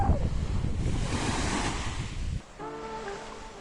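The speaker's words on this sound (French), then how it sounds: "La plage de la Canella, à quelques kilomètres de Salenzara, tôt le matin." Surf washing onto Canella beach near Solenzara, Corsica, early in the morning: a steady, close wash of waves with wind noise, easing after about two seconds into a quieter, softer background.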